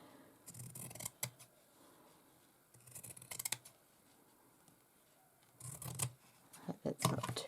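Scissors snipping through fabric in short bursts of several crisp, close cuts separated by quiet pauses, the last bursts sharper and louder.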